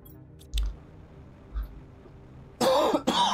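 A person coughs loudly and close up, with two harsh bursts near the end, after a couple of faint throat or mouth noises in a quiet room.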